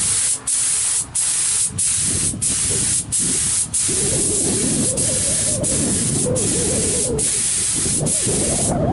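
Spray gun painting a fender in half-overlap coats: loud, close, continuous hissing spray with a rhythmic pattern of brief gaps as each pass ends, repeating roughly every second across the passes.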